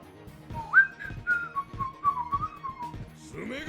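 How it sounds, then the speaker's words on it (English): A person whistling the Inazuma Eleven GO Strikers theme, a clear close melody of sustained and sliding notes over quiet game music, ending with a brief burst of background sound. "Shouldn't distract myself by whistling the theme"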